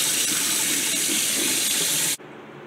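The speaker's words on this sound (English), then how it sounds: "get that water dish filled up" Tap water runs steadily into a tarantula's small water dish, a smooth, close hiss that carries on alone and then cuts off abruptly near the end.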